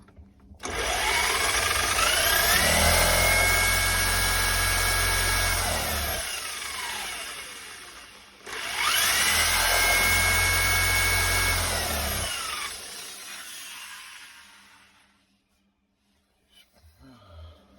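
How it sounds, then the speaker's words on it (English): A power drill spinning a Sierra Cosworth 70-amp alternator on the bench whirs loudly at high speed in two long bursts separated by a brief pause, winding down and fading at the end. "surely that drill's spinning it fast enough."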